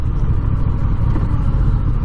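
A 2021 Honda Rebel 1100 DCT motorcycle engine running while riding and downshifting, a steady loud rumble with wind noise throughout and no talking.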